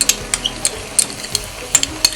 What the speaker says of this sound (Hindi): हम इसे भूनेंगे अच्छी तरीके से